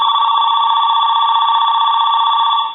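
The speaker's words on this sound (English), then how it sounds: "I'm going to go ahead and hang the telephone up at the hook switch at the handset, and then I want to move our switch and I want to ring it." A Mickey Mouse 210 Trim Line telephone rings on its loud setting, a single continuous, bright metallic bell trill that holds steady and then cuts off, close and loud with no talking.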